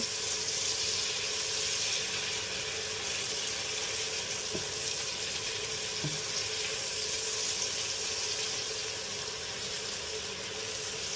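Tomatoes cooking in a pan for a corned beef dish give off a steady, continuous sizzle and crackle at moderate volume, with a few faint clinks near the middle and no talking.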